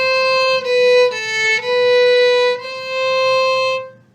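Solo violin plays measure 6 of La Cinquantaine, a short phrase of sustained bowed notes with smooth changes in pitch, bright and close-miked with no talking.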